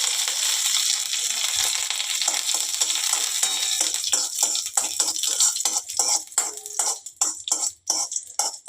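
Curry leaves crackling and sizzling in hot oil, a bright steady hiss that breaks into sharp popping spits and stirring scrapes toward the end.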